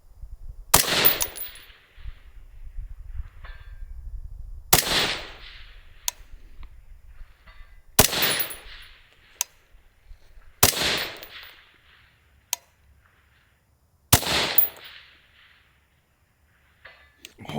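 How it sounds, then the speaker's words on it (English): Suppressed AR10 rifle fired outdoors in a slow sequence of five loud, sharp shots spaced a few seconds apart, each with a short trailing echo, and faint low background noise between them. "well, short shooting sequence"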